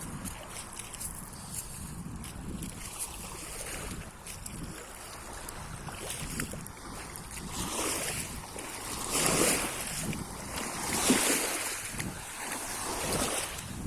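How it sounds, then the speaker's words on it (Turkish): Small waves lap steadily at the shore of Lake Eğirdir, mixed with wind noise that swells and fades, the splashing growing a little louder toward the end; no one speaks. "Ne güzel de bu ufak çaplı dalga vuruyor."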